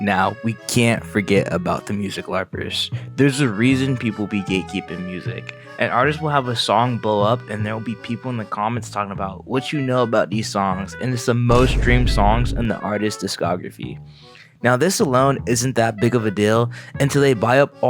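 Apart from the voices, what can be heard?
No everyday noise stands out behind the speech.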